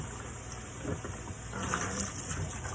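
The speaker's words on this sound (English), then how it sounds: "At the same time, I've been rinsing our bin here." Water runs from a tap to rinse a disinfection bin, a steady soft gush that grows a little louder and splashier partway through, heard alone.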